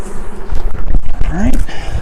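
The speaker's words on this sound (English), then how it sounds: "Usually a decent sign when there's a ton of bees on the inner cover like that." Honey bees swarm over the inner cover of an open hive, making a dense, steady buzz up close, with a voice partly mixed in.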